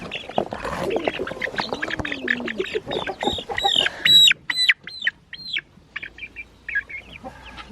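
Several chickens clucking and squawking close by as they are placed into a small homemade coop with a broomstick roost, busy overlapping calls, then short sharp clucks that thin out toward the end.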